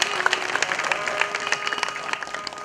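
A crowd at a Ram Navami religious satsang with a saint breaks into steady, dense applause of many hands clapping, loud and continuous from start to finish.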